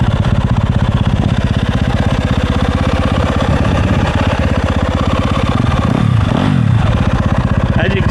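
2024 Yamaha YZ250FX race bike idling close by in cold weather, a loud, rapid, steady single-cylinder putter with a brief blip of revs near the end.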